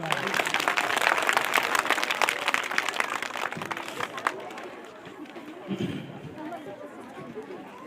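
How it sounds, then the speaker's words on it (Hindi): Students clap for their parents at a school annual results ceremony, loud dense applause that gradually thins and fades, with crowd chatter and a few voices mixed in. "सब स्टूडेंट अपने पेरेंट्स के लिए ताली लगा दें"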